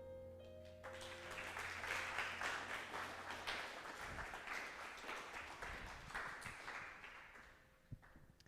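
An audience at the end of a storytelling show featuring origami tales at FGCU gives sustained applause for about eight seconds, dense and steady before thinning and fading out at the end.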